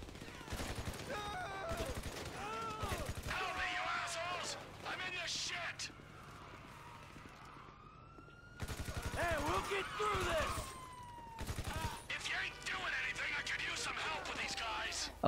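Rapid bursts of gunfire in a GTA V raid as attackers are shot down, dense volleys and machine-gun rattle with a quieter pause midway, mixed with game effects and people talking over it.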